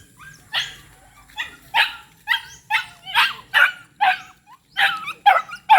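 A dog barks and yips repeatedly in quick succession, close and loud, with short high-pitched barks continuing throughout.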